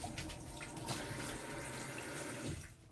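Water runs steadily from a tap indoors to fill a drink for a dog, a continuous splashing hiss at moderate level lasting the whole stretch before tapering off at the end.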